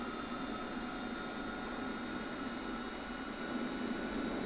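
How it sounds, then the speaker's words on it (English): The left turbine engine of an A-10 jet spins up in a steady, broad jet roar with a thin high whine running through it, constant and moderately loud with no voices. "you'll see that that left engine, that turbine is starting to spin"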